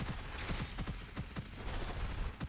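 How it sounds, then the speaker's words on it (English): A minigun fires in the video game Gunfire Reborn, a rapid stream of sharp punchy shots in quick bursts, loud and close, with no voice over it. "I have to minigun this guy in the butthole."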